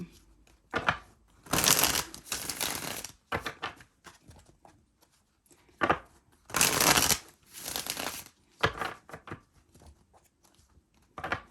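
Cards being shuffled over and over: bursts of riffling and bridging clatter separated by short pauses and softer handling sounds, close by.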